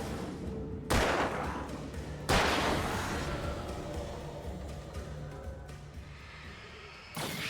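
Two loud, sharp gunshots from the game Alan Wake ring out a second and a half apart, each trailing into a long fading echo, with a third shot bursting in near the end.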